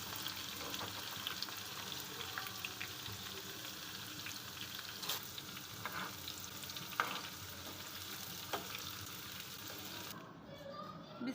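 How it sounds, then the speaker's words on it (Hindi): Garlic, onion and red chillies frying in oil for a dal palak tempering, giving a steady close sizzle with occasional stirring scrapes and faint voices in the background. "देखिए हमने भगार भी इस पर डाल दिया है।"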